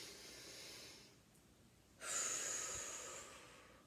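An exaggerated deep breath taken by a person, a loud airy inhale swelling in for about two seconds and then easing off, heard close and alone with no talk over it.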